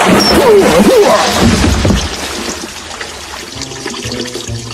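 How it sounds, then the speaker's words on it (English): A small hand-operated water pump dripping and splashing in a dramatized audio story, a loud gush of running water for about two seconds that then settles into a softer, steady trickle. "Maybe if I can make this little pump stop dripping, I can think."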